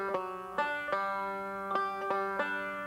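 Five-string banjo playing a short ending passage, a run of plucked notes with ringing harmonics and clear picked attacks, moderately quiet and close with no voices.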